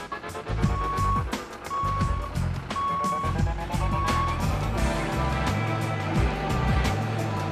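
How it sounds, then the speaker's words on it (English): Short high electronic beeps from a laser transit grade beeper repeat at a steady pace while digging a pool, partly masked by a loud rumbling engine and clanking machinery. "our laser transit makes our handy dandy beeper beep"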